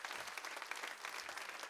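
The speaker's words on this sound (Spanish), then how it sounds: "Dale ese aplauso a Dios." A congregation at a sermon gives a round of applause. The clapping is dense and steady but fairly soft and distant throughout.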